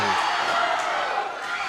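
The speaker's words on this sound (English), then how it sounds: "listen to this crowd" A wrestling crowd at a Duke City Championship Wrestling show roars steadily behind a wrestler, a dense wash of far-off cheering heard briefly beneath a commentator's voice.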